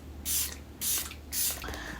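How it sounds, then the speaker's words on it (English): Three short hissing bursts of makeup fixing spray are applied for a bridal look. They are evenly spaced and close up, with brief quiet gaps between them. "Fixing spray because we want this to last."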